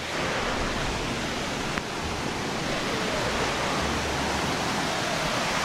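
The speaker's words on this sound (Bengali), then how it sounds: "অনেক উপর থেকে কিন্তু পানি পড়তেছে, পানি পড়ে একদম লেয়ার লেয়ার বেয়ে বেয়ে নিচে যাচ্ছে" Steady, loud rush of falling water, a dense unbroken roar of a tall waterfall cascading down rock layers close by, with no voices.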